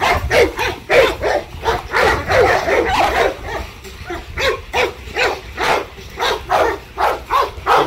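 Several dogs barking and yipping in rapid, overlapping bursts, loud and close, continuing without pause.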